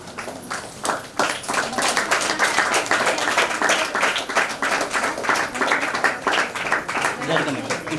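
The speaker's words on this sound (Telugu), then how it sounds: "అందరూ కూడా చప్పట్లు కొడతారు" Wedding guests clap together at a Telugu ceremony as the groom performs a ritual with the bride, with steady, dense clapping running throughout, mixed with crowd chatter and voices.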